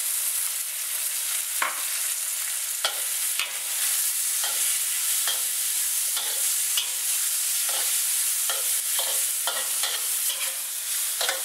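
Prawns and a seafood mix stir-fried in a hot pan for chao hor fun, a continuous sizzle punctuated by frequent sharp scrapes and clanks of the spatula, close and unaccompanied by talk.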